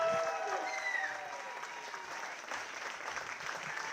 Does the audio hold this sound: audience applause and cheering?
yes